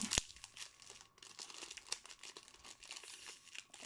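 Close, quiet crinkling and tearing of a foil trading card booster pack wrapper, with irregular crackles and rips, one sharper tear at the start. No voices.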